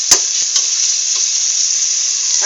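Ham and hot dog pieces are stirred together in a hot pan for creamy sopas, giving a steady close sizzle with a few quick utensil scrapes near the start.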